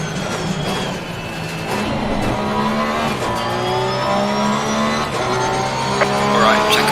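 Race car engines roar and rev with shifting gear tones and occasional tire squeal in the Assetto Corsa Competizione racing game played in VR, loud and continuous with several cars at once.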